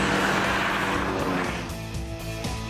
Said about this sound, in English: During the Quartermile, Matthias, with his 1300 turbo engine, immediately shows the Czech rival, a Skoda 130, who is in charge.